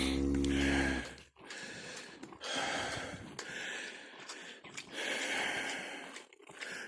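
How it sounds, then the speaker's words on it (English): An out-of-breath person pants close to the microphone, a series of heavy, rasping breaths in uneven bursts after a brief low hum at the start. "Yes, I'm panting."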